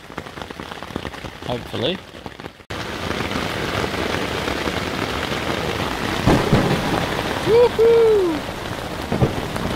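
Heavy rain pours steadily on a tent during a thunderstorm, with a short burst of thunder near the beginning and low rumbles later. A person speaks and whoops briefly over the downpour.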